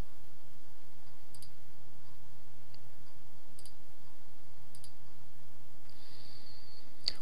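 Mouse and keyboard clicks on a Linux computer, a few sparse, sharp ticks spaced about a second apart over a quiet hum, faint and close, with a brief brighter burst near the end.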